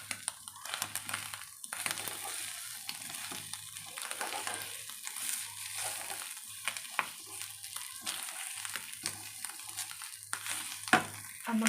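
Fish roe and egg mixture frying in a pan, a quiet, continuous sizzle broken by occasional stirring scrapes and crinkles, with a low steady hum underneath.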